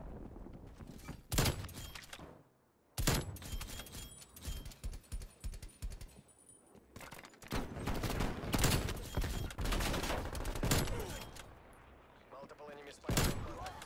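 First-person shooter gunfire crackles in dense, repeated bursts and single shots throughout, with a brief quiet gap, while people talk over it.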